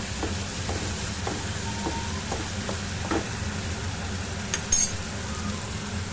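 Paneer cubes dropped into a pan of frying potato and cauliflower sabji, with a steady close sizzle and a series of spoon scrapes and stirring taps, plus a brief clink of utensil near the end.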